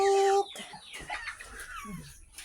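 Broiler chickens clucking around feeding time on a small farm, a busy scatter of soft clucks and calls that starts with a brief, clear tonal call, then continues at close range.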